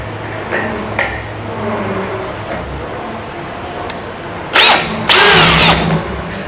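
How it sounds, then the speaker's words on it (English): A power drill whirs in two short, loud bursts near the end, marking parts during an expedition truck build, after a stretch of quiet workshop background with faint knocks. "I just use the drill to mark things"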